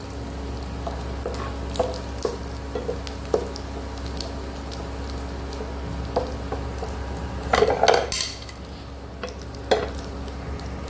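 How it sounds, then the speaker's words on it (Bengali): Bhola fish fries in a pan of hot oil, giving a steady close sizzle broken by occasional scrapes and clinks of a utensil against the pan. No one speaks. "মাছটা ভাজা হচ্ছে, এই দেখুন মাছ ভাজা"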